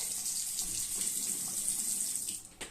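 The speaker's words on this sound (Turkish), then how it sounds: "Ama su boşuna akıyor bak bazen." A bathroom tap runs steadily during hand washing, a continuous close hiss of water into the sink with faint splashes, then it briefly tapers near the end.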